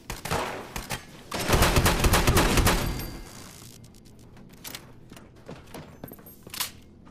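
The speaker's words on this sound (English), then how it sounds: "get him with your silly pipe pistol" Rapid bursts of pipe pistol gunfire in the Fallout 76 video game, loud and dense for about two seconds, then scattered single shots and thuds trailing off.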